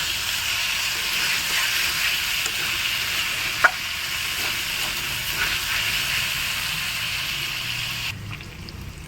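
Onions and chopped green chilli sizzle and fry in a hot pan, a continuous loud hiss with occasional stirring scrapes and one sharp clink midway, fading slightly at the end.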